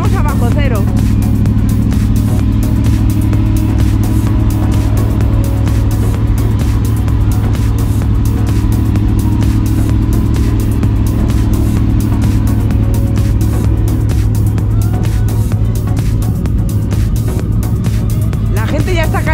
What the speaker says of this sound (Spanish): La gente ya está calentando motores para irse.